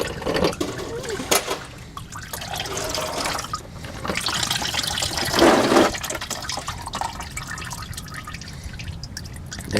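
Old engine oil drains from a cracked oil filter, giving a steady trickle and dribble of liquid, close by and moderately loud, with a person talking over it at times.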